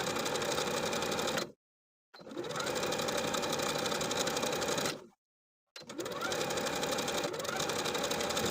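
A sewing machine runs a stretch stitch around tee shirt sleeve hems in three continuous bursts of rapid, steady mechanical whirring, close and loud, separated by brief silent pauses.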